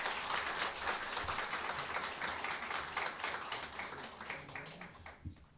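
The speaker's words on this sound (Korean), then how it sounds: "축하의 박수를 보내주시기 바랍니다." An audience at a Korean district office awards ceremony claps in congratulation, a moderately distant burst of applause that holds steady and then tapers off toward the end.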